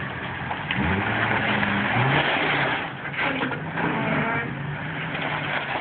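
Small go-kart engine revving nearby, a raspy continuous buzz rising and dipping in pitch with brief easing around the middle, loud and close.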